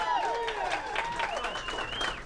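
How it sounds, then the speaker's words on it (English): A studio audience on a high school football talk show about El Rancho applauds in a steady wash of clapping, while voices or whistling tones rise and fall over it. "On this show, spontaneous applause is appreciated, so keep it coming."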